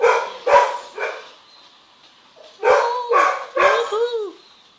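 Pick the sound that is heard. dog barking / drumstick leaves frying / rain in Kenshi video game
dog barking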